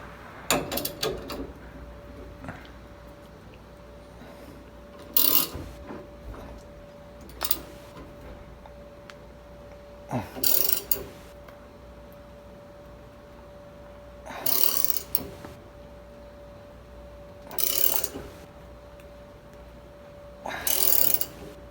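A steering wheel puller is tightened on a classic 57-year-old Volkswagen bus, making short bursts of metallic ratcheting and clicking about every two to three seconds, separated by near-silent pauses in a quiet workshop.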